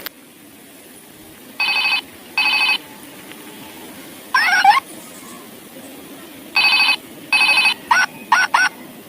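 Electronic ringtone from a Hello Kitty toy telephone, sounding in short repeated bursts of bright beeping tones at close range with pauses between them, ending in quicker chirps.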